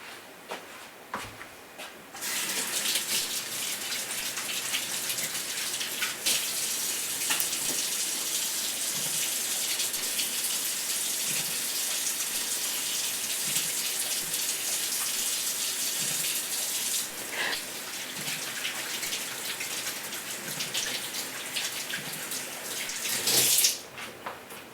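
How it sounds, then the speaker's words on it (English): Tap water runs steadily into a kitchen sink while hands are rinsed during salmon dinner cooking, a close continuous gushing hiss lasting about fifteen seconds before the tap is shut off. "So I'm just going to rinse my hands quickly."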